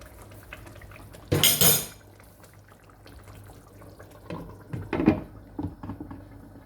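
A metal lid clatters onto a pan of salmon curry cooking on high heat, a sharp close clang followed by softer clinks and knocks of cookware a few seconds later.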